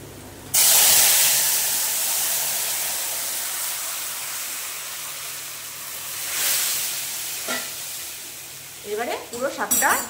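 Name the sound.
black cumin seeds sizzling in hot oil for greens curry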